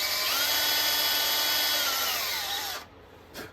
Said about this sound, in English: Put my drill on.